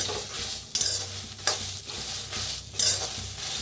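Black ghevda beans dry-roasting in a kadhai with no oil, a steady scraping and rattling stir with soft sizzle, broken by a few louder spoon knocks against the pan.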